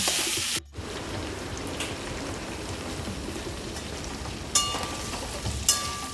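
Prawns fry in hot oil in a kadai for a Bengali chingri malai curry, giving a steady, soft crackling sizzle throughout with a couple of brief metallic clinks near the end.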